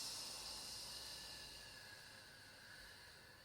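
A Pilates breath is released out through pursed lips as a soft, continuous airy hiss that slowly fades over a few seconds, close and quiet, with no speech.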